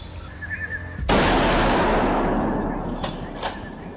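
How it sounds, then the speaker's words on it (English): A hunter fires a rifle at a wild boar. The shot is a single loud, sharp blast followed by a broad rumbling echo that decays over a couple of seconds, with faint clicks after it. "the hunter takes precise aim and pulls the trigger"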